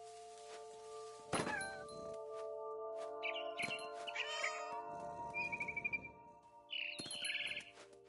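A cat meows several times in the video game What Remains of Edith Finch, short bright cries mixed with bird chirps, soft thunks and game effects, with no talk.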